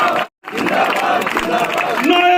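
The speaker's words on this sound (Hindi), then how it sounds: "जैसे ही पगड़ी बनाए आप जोरदार तालियों से इनका स्वागत करें" A crowd applauds loudly and steadily to welcome a BJP candidate at a village political rally, with a brief break before the clapping continues as a dense, continuous roar.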